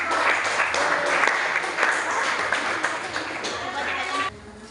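A classroom of students applauds a student group after a physics presentation on waves, sustained clapping throughout that cuts off abruptly near the end.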